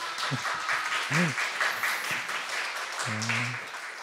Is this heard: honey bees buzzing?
no